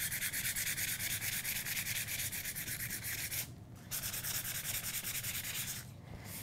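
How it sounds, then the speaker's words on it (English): Sandpaper rubbed lightly over embossed paper, a steady close scratchy hiss in quick repeated strokes, with two brief pauses between passes and no voices. "gonna go ahead and just take a little piece of sandpaper and just lightly sand over the top of it"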